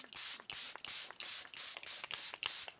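Eight quick hissing bursts of Charlotte Tilbury setting spray mist onto a face in an even, rapid rhythm, close and soft.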